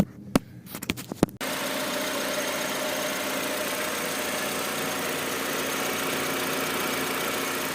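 Honda Civic Aerodeck with a D15 engine idling steadily after an alternator replacement, a close, even mechanical hum that starts after a few sharp clicks and knocks and holds without change.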